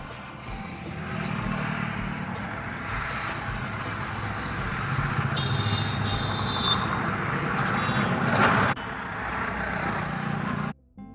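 Cars and trucks pass on a highway beside a roadside hotel, making a continuous loud rumble and whoosh of traffic that swells slightly and then cuts off abruptly.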